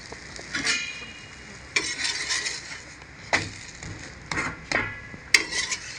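A spoon stirs and scrapes food roasting in a pan, with a soft sizzle underneath and irregular metallic clinks and scrapes at close range, no voices.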